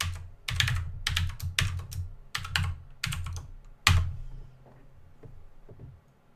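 Computer keyboard typed on while logging into a Facebook account: close, crisp bursts of key clicks in quick uneven runs, thinning to a few scattered taps near the end, with no talk.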